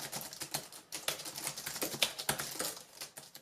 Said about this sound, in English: Just listen to how awesome this keyboard sounds.